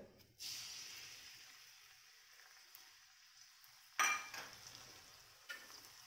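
Minced garlic hits a spoonful of hot oil with a soft, steady hiss that carries on quietly, then a sharper burst of sizzle and stirring clatter near the end.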